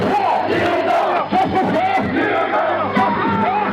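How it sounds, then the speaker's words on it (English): Large street protest crowd in Delhi, India, with dense continuous shouting and chanting from many voices, loud and close throughout on overmodulated radio audio. "That's the sound of one of the many protests that's been taking place in the Indian capital,"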